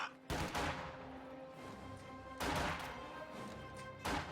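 Gunfire in a strategy video game battle comes as three short bursts of loud rattling shots, alone with no speech, separated by a lingering low battle ambience.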